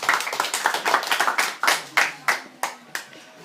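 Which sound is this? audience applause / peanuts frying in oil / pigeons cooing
audience applause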